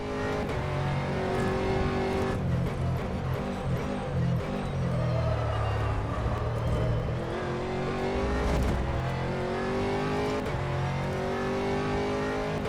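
An LMP3 race car in rFactor 2 closes in and passes during a Sebring race, its engine whine rising and falling through gear changes over the steady drone of the player's Aston Martin GT3, no voices.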